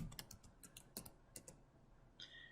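A username and password are typed on a computer keyboard to log into an online portal: a quiet, uneven run of crisp key taps, about a dozen clicks in small bursts with short pauses.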